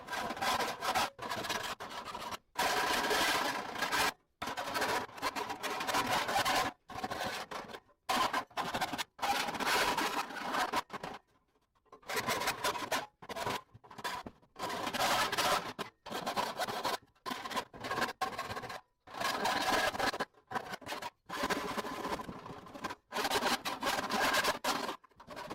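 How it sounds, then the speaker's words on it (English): A small hand file rasps over the sharp metal corners of a PC case in repeated short bursts of rough scraping, close up, with brief pauses between strokes and a longer break midway. "I'm going to take the small file and do all the corners."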